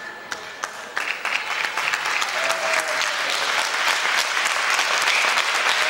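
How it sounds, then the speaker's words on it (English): A 1970s–80s British wrestling crowd claps for Ian McGregor at the end of a round, scattered claps building into a steady wash of applause, with a commentator talking over it. "most of the applause going for Ian McGregor"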